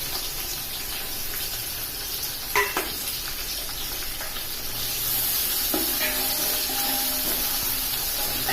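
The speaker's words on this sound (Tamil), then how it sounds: "இப்போ வெங்காயம், அரிஞ்சு வச்ச வெங்காயத்தை நம்ம சேர்த்துக்குவோம்." Chopped onions go into hot oil for a country chicken biryani, giving a faint, steady sizzle and hiss with a few clinks and stirring sounds, and no talking.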